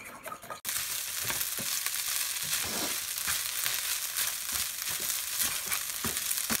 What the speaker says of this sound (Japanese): はい、多分もうこれ炒め終わりましたね